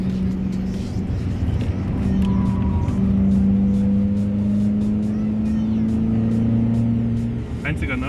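An Alfa Romeo 159 cruising on the Nordschleife, its engine holding a steady loud drone that rises slightly in pitch as it accelerates, with road and wind noise filling the cabin throughout.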